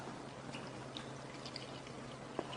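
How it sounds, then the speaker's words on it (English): Cola poured from a freshly opened bottle into a glass gives a faint, steady liquid trickle with light fizzing, one small clink near the end. "So I'm going to pour some of this into this glass."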